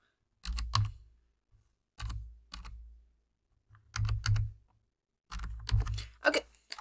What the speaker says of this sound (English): that actually helps if I click buttons